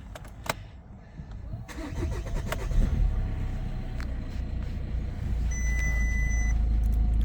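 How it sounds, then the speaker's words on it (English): A 2014 Audi A3 Sport 2.0 TDI diesel engine cranks and catches, then settles into a steady, low diesel idle, with a few clicks and a brief electronic beep along the way. "And I'll just start the car up."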